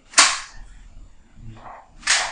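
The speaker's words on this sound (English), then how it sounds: "to take the bolt out on a Russian weapon" Metal clacks as the bolt is pulled from a Russian rifle: two sharp, close snaps about two seconds apart with a softer rattle in between, in a quiet room.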